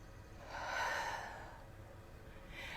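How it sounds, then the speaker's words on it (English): A single deep, breathy inhale during a yoga lunge stretch, swelling and fading over about a second in a quiet room, followed by soft trailing breath. "Take one more big breath."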